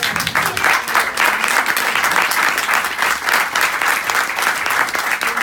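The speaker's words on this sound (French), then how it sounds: "Je vais l'applaudir très fort." An audience at a French-language presentation applauds a speaker, giving dense, steady clapping that stays loud throughout.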